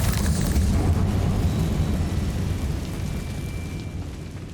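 The Confringo fire spell explodes in Hogwarts Legacy with a deep, rumbling boom that starts loud and slowly decays over several seconds.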